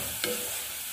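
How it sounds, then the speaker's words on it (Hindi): Onion with turmeric powder and salt being stirred in a pan for Rajasthani upma, a brief close sizzle with a single spatula scrape over a steady hiss. "हल्दी पाउडर और नमक और प्याज को अच्छे से मिक्स कर लेती"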